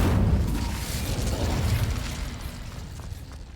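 The Incendio fire spell cast in Hogwarts Legacy, a loud, dense whooshing burst of flame that roars at once and then slowly fades over a few seconds, with no voices.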